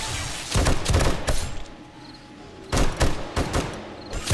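Turret gunfire bursting in 7 Days To Die during a blood moon horde night, loud repeated volleys in two clusters separated by a quieter stretch of rumble.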